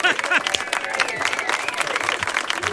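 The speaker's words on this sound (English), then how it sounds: "I need a big round of applause and a big welcome for my friend and a very funny guy, Mr. Lorenzo Clark." A comedy-show audience in Las Vegas claps and cheers to welcome comedian Lorenzo Clark, fairly loud and uneven, with whoops and voices rising over the clapping.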